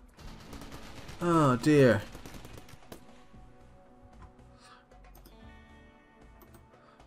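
Gunfire crackles between fighters in a RimWorld colony battle, a quick burst of faint clicky shots under a brief exclamation, followed by softer scattered pops.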